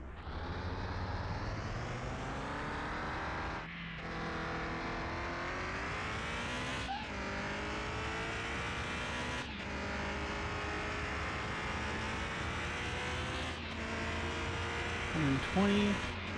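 A Dodge Viper GTS engine at full throttle on a runway, a loud continuous roar with rising pitch through each gear, brief dips at the gear changes, steady and close throughout.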